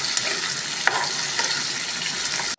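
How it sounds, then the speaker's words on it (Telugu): Sliced okra fries in hot oil with a steady, close, broadband sizzle and occasional stirring scrapes, continuing without a break until an abrupt cut. "కాగిపోయింది కదండి, బెండకాయ వేసేసుకోవాలా. ఇంకా కలిపెట్టుకోవాలా."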